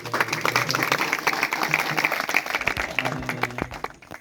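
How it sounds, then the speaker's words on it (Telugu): A church congregation breaks into steady applause, many hands clapping together in a dense, continuous patter that fades slightly near the end. "మనం ఒకసారి చప్పట్లు కొట్టి"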